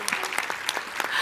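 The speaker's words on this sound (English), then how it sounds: "Can I have a little applause?" A conference audience claps in a short burst of applause, with a few distinct sharp claps standing out over the steady wash.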